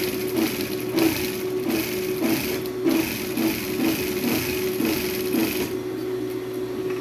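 A sewing machine stitches a pleated school skirt in quick, evenly spaced bursts of mechanical whirring, close and loud, before the motor drops back to a quieter hum near the end.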